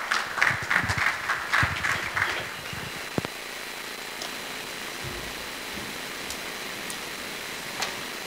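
A burst of clapping from a conference audience welcoming a guest speaker fades out after a few seconds, leaving a quiet room with occasional small knocks.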